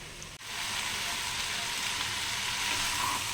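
Pumpkin and potatoes are stir-fried in a pan, giving a steady, close sizzle that starts after a brief knock and continues evenly throughout.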